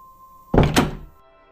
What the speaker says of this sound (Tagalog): Pagkasara ng pinto,